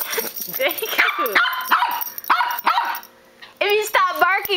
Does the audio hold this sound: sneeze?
no